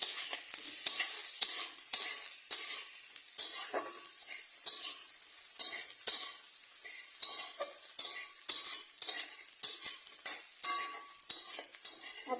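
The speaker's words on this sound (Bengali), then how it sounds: "এর সাথে মশলার সাথে আলুটা দিয়ে ভালো করে একটু কষিয়ে নেবো।" Potatoes stir-fried with spices in a pan, a soft steady sizzle under a regular rhythm of quick scraping strokes from the spoon, close and without voices.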